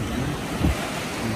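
Waves wash onto a Caspian Sea beach in Baku, heard as a short, steady, close surf rush with a slight swell midway and no voices.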